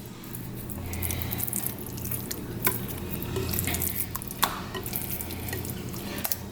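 Catfish seasoned with Old Bay frying in a pan and being flipped, a soft continuous sizzle with a few sharp clacks and scrapes as the pieces are turned.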